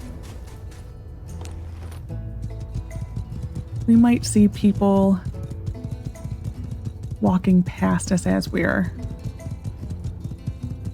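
Horse hooves clip-clop in a steady rhythm while riding through the town in My Time at Sandrock, a video game, with someone talking over them.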